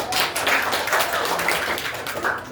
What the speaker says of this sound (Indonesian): Beri tepuk tangan sama Yola.